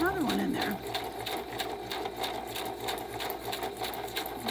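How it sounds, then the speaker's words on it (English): A sewing machine runs steadily, chain stitching fabric pieces together in one continuous pass, its rapid needle clatter close and even throughout, with a brief voice at the very start. "Chain stitching this together saves on thread because it doesn't, you don't have to stop and start and have tails."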